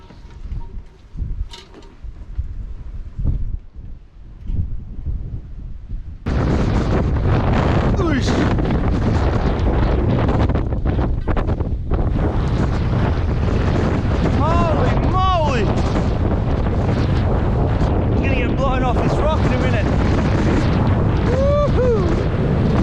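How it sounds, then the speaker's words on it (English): Strong wind buffets the microphone in loud, roaring gusts on a fishing boat deck in Australia after a quieter opening, with rushing water and faint whistling tones beneath. "She's bloody windy out there."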